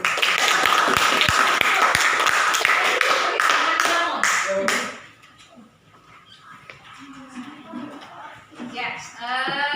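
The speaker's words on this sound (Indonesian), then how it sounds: "kita kasih tepuk tangan dulu" An audience in a classroom presentation claps together loudly for about five seconds, a dense burst of hand claps that then fades, followed by a voice talking.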